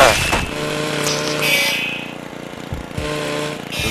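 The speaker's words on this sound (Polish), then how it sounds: "Motor ogarnia." Motorcycle engine in the video game Happy Wheels, a loud buzzing drone that rises and dips in pitch as it revs, heard close and continuous with game sounds layered over it.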